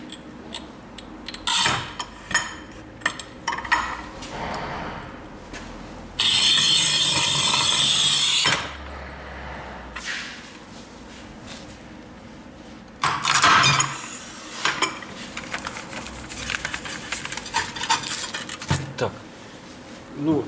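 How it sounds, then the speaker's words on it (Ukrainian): A Rubi FAST 85 manual tile cutter scores and snaps a 9 mm porcelain stoneware tile in half: a loud, harsh, gritty scrape for about two seconds, then a second sharp burst later, among scattered handling clicks. "Той самий керамограніт е, товщиною 9 мм е, пробуємо різати плиткорізом рубі"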